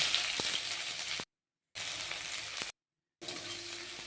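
Onion, garlic and green chilli frying in mustard oil, a soft sizzle broken by two sudden silent gaps, with faint stirring taps, quiet and close.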